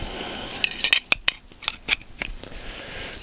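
Copper water pipe being cut, a series of sharp metallic snips and clicks coming in an uneven rhythm, close and fairly quiet, with no speech.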